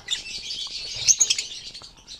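Lovebird chicks in a breeding box give thin, high chirps and short tweets, a few brighter calls clustered near the middle, close and fairly faint with some light rustling.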